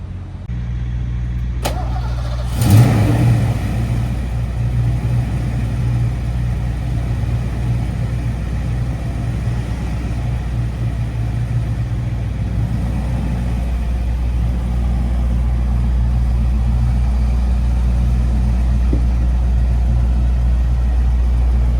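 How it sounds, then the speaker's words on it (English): A 1986 Ford Mustang GT, a five-speed with T-tops, cranks and catches with a sharp start. It settles into a loud, steady, low idle rumble heard up close. "We're gonna fire it up now, show it drive down the road, and then get in and drive it."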